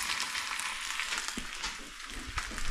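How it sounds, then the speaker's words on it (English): Meat sizzles and crisps on a tortilla in a hot pan, a dense, steady frying crackle close up with small pops and no voices. "as that meat crisps up, it also steams through to the tortilla"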